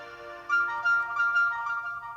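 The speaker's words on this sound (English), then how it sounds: "you can hear that is the default alarm ringtone" A bright default alarm melody plays from a OnePlus Watch 2 speaker, clear tonal notes rising and repeating with no talking.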